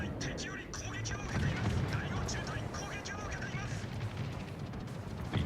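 Warships throwing up anti-aircraft fire in a naval battle game, a thick ongoing rumble of distant booms and popping flak bursts, with someone talking over the barrage.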